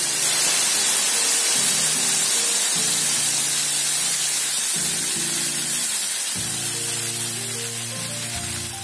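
Chutney ingredients fry lightly in a pan, giving a loud, continuous hissing sizzle close by, with low tonal humming underneath that shifts in pitch.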